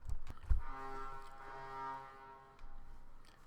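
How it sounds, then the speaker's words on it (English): A truck horn blares in one loud, sustained blast lasting about two seconds, preceded by a couple of sharp knocks and followed by low rumbling traffic noise. "some truck has to honk really loud."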